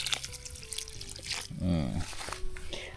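Water trickles and splashes steadily as ampalaya plants on a trellis are watered outdoors, a soft continuous flow with a voice in the background.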